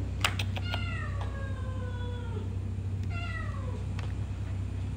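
A cat meows repeatedly in a hotel setting, several drawn-out descending calls in two clusters over a constant low hum, moderately near, with no talking.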